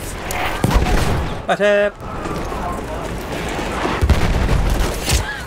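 Dense Battlefield 1 gunfire, rapid overlapping shots and distant booms through a chaotic battle, with a voice shouting briefly over the din.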